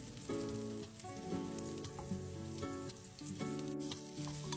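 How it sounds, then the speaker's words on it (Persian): Spiced marinated shrimp sauté in oil in a pan, a soft, steady sizzle running quietly beneath melodic background music. "میگوهای مزه‌دار شده رو توی همون روغن یکم تفت دادم و بهش ادویه زدم."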